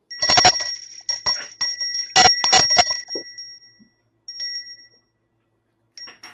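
A notification bell sound effect for subscribing rings out several times in quick succession, bright and metallic, then a few softer dings trail off after a pause.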